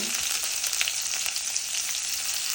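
Ginger and small shallots frying in a pan while being stirred for a Brahmin-style chilli fish curry: a steady, close, bright sizzle with light scraping from the spoon throughout.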